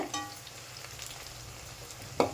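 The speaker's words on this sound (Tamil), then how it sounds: "வெங்காயம் நல்லா வதங்கட்டங்க" Onions sauté in a pan for a mutton curry, giving a soft, quiet sizzle with light stirring scrapes and a sharper clink of a spoon against the pan near the end.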